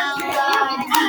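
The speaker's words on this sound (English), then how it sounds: "Can you clap melody?" A first-grade child claps out the syllables of a word during a classroom phonics lesson, a few close, soft hand claps in a short rhythmic pattern.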